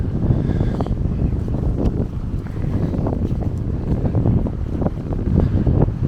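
Gusting wind buffets the microphone in a loud, continuous roar beside the Amstel River in Amsterdam, with brief swells and no one talking.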